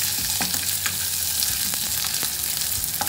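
Plenty of onions frying in a pan for arroz caldo, a dense, continuous close-up sizzle punctuated by occasional stirring scrapes, with no voices.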